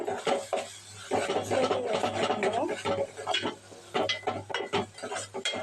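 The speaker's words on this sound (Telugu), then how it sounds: "ఉల్లిపాయ ముక్కలు అయితే చక్కగా ఫ్రై అయిపోయింది" Onion pieces fry in a pan while a utensil stirs them, giving steady scraping and clinking over a soft sizzle, close by. A low hum sits beneath throughout.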